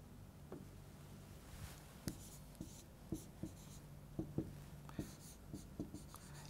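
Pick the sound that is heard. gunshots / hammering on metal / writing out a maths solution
writing out a maths solution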